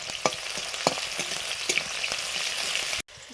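Onions frying in a pan: a steady sizzle with soft scraping stirs at irregular moments, close and fairly loud, with no speech, cutting off abruptly near the end.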